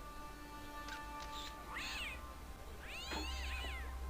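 A cat in the video game Broken Sword: Shadow of the Templars meows twice when petted. Each meow is a short, rising-and-falling call, fairly faint over a steady low background hum.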